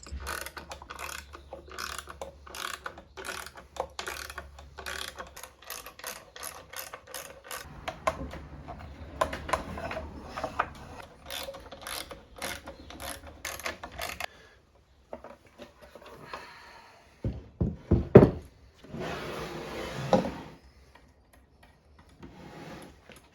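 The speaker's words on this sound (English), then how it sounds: "Just using a couple of lag bolts with some washers on them to drive that through" Lag bolts fitted with washers are driven into a mini workbench with a ratcheting tool, giving a long run of rapid, steady mechanical clicks. A few louder knocks and clunks come near the end, with no talking.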